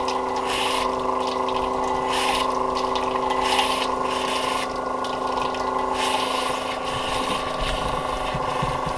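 A pump runs steadily, pushing water and antifreeze out of the water lines of a 1936 wooden boat during winterizing, with a constant mechanical drone and intermittent sputtering hissing bursts as air and liquid spit through.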